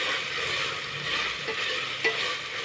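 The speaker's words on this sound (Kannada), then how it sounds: "ಚೆನ್ನಾಗಿ ಫ್ರೈ ಆಗ್ತಾ ಇರಬೇಕು ಟೊಮೊಟೊ" Tomatoes deep frying in a pan for tomato bath: a continuous, close bubbling sizzle with soft stirring scrapes and one brief louder pop, heard alone without voices.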